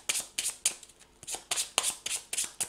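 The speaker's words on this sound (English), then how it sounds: "I'll shuffle my deck." A deck of cards for the board game Sanctuary: The Keepers Era is riffle-shuffled up close, with about nine crisp bursts in an uneven rhythm and brief pauses between them, no talk.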